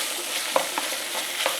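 Meat with chili powder stir-frying in a pan over medium heat just after water goes in, for spicy tofu duruchigi: a loud steady sizzle with a few quick scraping stir clicks, brief and close, no voices.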